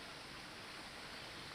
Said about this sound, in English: Could be the sound of the creek